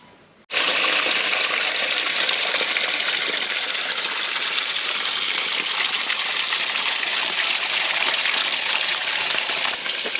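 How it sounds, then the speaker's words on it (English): Spring water gushing steadily from rock at Russell Spring in the Cotswolds, a loud, continuous close-up rush that starts abruptly and holds unbroken throughout, with no voices. "Russell Spring, water from the living rock"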